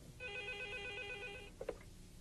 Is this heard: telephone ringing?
yes